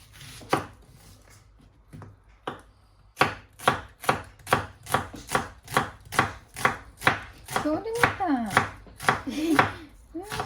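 An onion chopped on a board, starting with a few slow, separate knife strikes and then settling into a steady run of close, crisp thuds, with faint voices in the background near the end.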